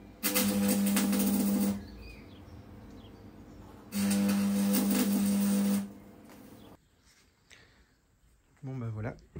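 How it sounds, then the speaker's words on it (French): Metal is arc welded for a homemade high side rack on a trailer, in two loud crackling, buzzing bursts of about two seconds each with quiet gaps between, followed by faint handling noises. "Bon, on va souder."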